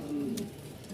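Bokhara pigeons give a soft, close, low coo from a loft, one brief rolling call over faint background noise.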